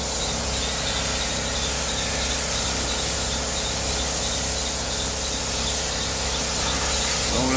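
A spray gun lays thin coats of paint on a 1938 SS Jaguar 3½ drophead, giving a steady loud hiss that runs without a break for several seconds, close by.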